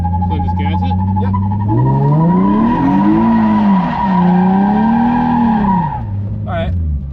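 A BMW E36 drift car spins donuts on a snowy skid pad, its tires skidding and squealing in a long continuous smear over a loud engine drone whose pitch rises and falls as the throttle is worked.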